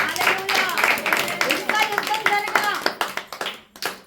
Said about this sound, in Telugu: చప్పట్లు కొట్టి ప్రభువుని